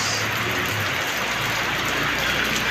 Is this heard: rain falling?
yes